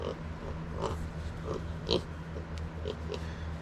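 Kunekune pigs in a shady pasture give soft, scattered grunts and snorts, a few short calls spread out and fairly quiet over a low steady background hum.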